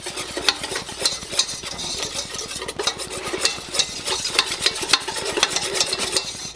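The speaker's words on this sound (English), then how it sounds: "But we want to keep whisking it so we don't want it to brown." A whisk beats a butter and flour roux in a saucepan over medium heat, with quick rhythmic metallic strokes repeating close up and steadily throughout.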